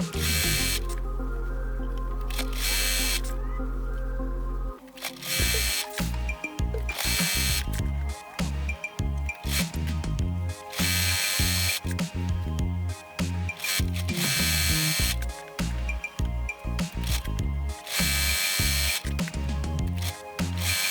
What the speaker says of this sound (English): I will just take first 2 pieces from the top and stitch all of them in one go